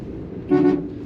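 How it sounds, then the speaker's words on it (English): Horn of a 1965 Plymouth Barracuda with a three-on-the-tree manual: a single short toot with a slight double pulse, heard close over a quiet idle, with no talking. "Horn works."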